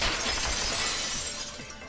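A vase shatters in the video game Danganronpa 2, a loud crash of breaking ceramic that spreads into scattered tinkling shards and slowly fades, with no speech.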